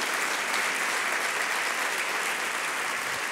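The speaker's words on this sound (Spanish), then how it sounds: "¿Cuántos le vamos a aplaudir por eso?" A church congregation applauding during a sermon, a sustained, even wash of many hands clapping that fills the whole stretch, fairly distant and alone with no talk.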